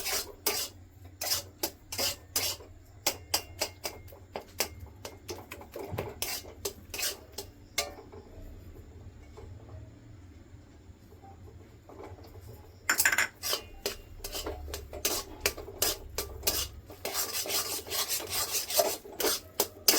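A utensil stirs and scrapes a thick pumpkin barfi mixture in a pan, producing rapid rhythmic rasping strokes against metal, close and loud, with a quieter pause in the middle before brisk stirring resumes.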